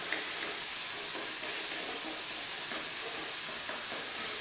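Chopped tomatoes frying in hilsa fish oil for a Bengali mustard hilsa dish give a steady, close sizzle with faint stirring scrapes throughout, no voices.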